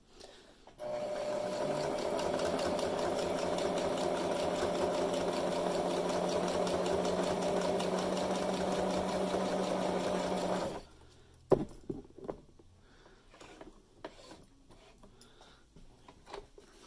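A sewing machine runs in one long, steady stitching burst as it sews a pleat on a fabric mask, loud and close, then stops abruptly and gives way to a few faint handling clicks.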